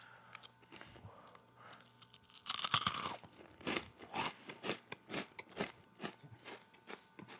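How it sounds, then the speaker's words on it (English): Someone bites into a hard, sturdy Pringles potato chip, giving a loud crunch followed by a run of regular crisp chewing crunches up close, with no talking. "Let me try to get a good crunch."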